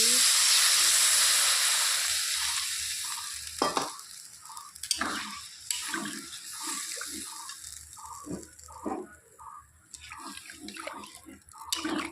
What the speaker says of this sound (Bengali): তো সব কিছু ভালো করে কষিয়ে নেওয়া হয়ে গেছে এখন দিয়ে দিব ঝোল